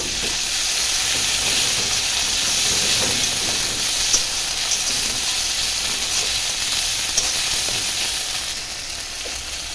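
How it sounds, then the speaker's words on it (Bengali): Ginger, garlic and dried chilli paste frying with onions in hot oil, a loud, continuous close sizzle and hiss with occasional faint stirring taps, no voices. "এখানটায় মিক্সড করা আদা রসুন শুকনো লঙ্কা পেস্ট করা আছে, এটা দিয়ে দিচ্ছি। ভালোভাবে কষিয়ে নেব।"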